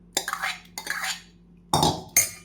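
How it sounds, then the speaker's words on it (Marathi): Rice kheer being ladled from one pot into another: four short metallic scrapes and clinks of a spoon against the pot, close and fairly quiet, with gaps between them and no talk. "दुसऱ्या पातेल्यामध्ये काढून घेते"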